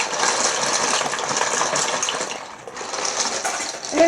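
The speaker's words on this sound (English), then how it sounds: "So I'm pouring in the noodles" Dry noodles pour into a pot of boiling water on a stovetop, making a loud, continuous rushing hiss and clatter close by that dips briefly midway and then resumes.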